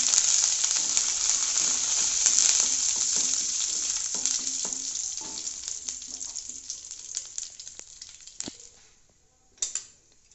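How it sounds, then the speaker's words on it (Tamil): Mustard seeds, urad dal, two broken dried red chillies and curry leaves fry in hot oil, a loud crackling sizzle with scattered pops that gradually fades, followed by a brief clatter near the end. "கொஞ்சம் கடுகு, கொஞ்சம் உளுந்து பருப்பு, 2 காஞ்ச மிளகாய் பிச்சு போட்டிருக்கேன். இந்த கறிவேப்பிலையும் போடுறேன்."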